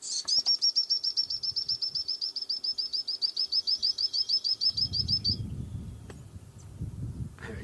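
A recorded call of a small wild bird is played back outdoors: a rapid, evenly spaced series of high, bright chirps runs for about five seconds and stops, followed by a low rumble.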